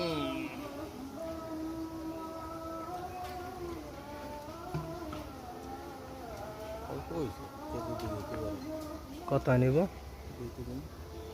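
A large swarm of bees drones in a dense, continuous buzz close by, layered with shifting tones, while people talk over it.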